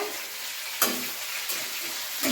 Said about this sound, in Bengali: এই যে এখানে উচ্ছে আলু ভাজা হচ্ছে